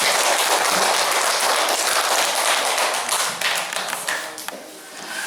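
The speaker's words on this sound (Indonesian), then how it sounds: "Tepuk tangan untuk Anda sekarang." Loud, close applause from a gathered audience at an Indonesian talk, dense clapping that thins into scattered individual claps as it dies down.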